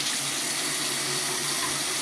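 Water poured onto a Norton 4000/8000 grit combination whetstone while honing a straight razor, a steady, continuous hiss of running, splashing water with no pauses.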